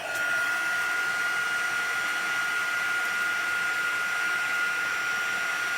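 Heat tool melting embossing powder over a rubber-stamped image, a steady fan-driven blowing hiss with a constant high whine, even and uninterrupted at close range.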